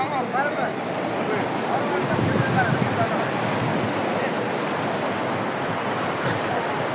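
Waves from the Arabian Sea wash steadily onto the shore in a continuous, fairly loud roar of surf, with wind buffeting the microphone and no break in the rushing water.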